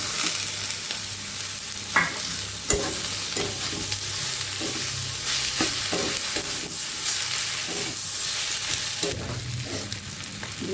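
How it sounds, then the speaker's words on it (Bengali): Boiled potatoes being stirred and fried in a pan for Bengali ghugni: a steady sizzle throughout with occasional scraping clicks of the spoon against the pan. "সেই আলুটা আমি এখন একটু মিক্স করে দিয়ে ভাজি ভাজি করে নেব"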